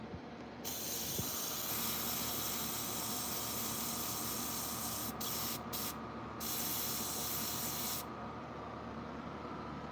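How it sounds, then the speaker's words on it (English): A steady broadband hiss of an airbrush spraying dye onto a rug during a custom color-change restoration, running nearly continuously with a few brief cutouts, close and fairly loud, with no talking. "I got the airbrush going here."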